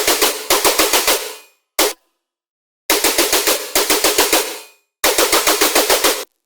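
Serum synth bass layer built from a saw wave, a second oscillator, noise and reverb for tearout dubstep, blasting out loud stuttering bursts of rapid harsh pulses with brief gaps between them.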